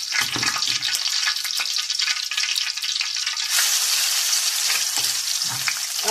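Coarsely hand-pounded chili hits a very hot pan for a Thai stir-fry of pork, pig's ear and morning glory, producing a loud, continuous sizzle with scraping stirring strokes and no talking.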